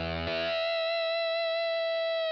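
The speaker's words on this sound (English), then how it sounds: "we're just getting that little extra push of distortion and a little bit of extra bite" An electric guitar lead played through a vintage drive distortion in Logic: one picked note with a sharp attack, then a loud, steady sustain rich in buzzing harmonics, heard alone.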